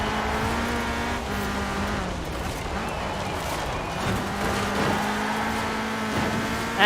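Several race cars launch together in Forza Horizon 4, steady engine drone with rising harmonic whine holding throughout, close and loud with no talk over it.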